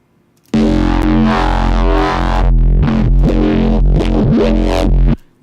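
Heavily distorted neuro bass synth run through manual tube-style distortion, a loud, continuous growling stream of modulated bass notes with shifting, wobbling tone, ending abruptly after about five seconds.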